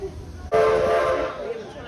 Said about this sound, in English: the 2 toots of the whistle means we're back on our way